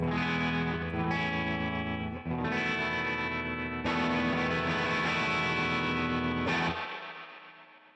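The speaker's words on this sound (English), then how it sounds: "I love the way this reverb sounds." An electric guitar strums sustained chords through a reverb pedal, heavy and washy with effects, each chord ringing out, the last one fading into a long tail.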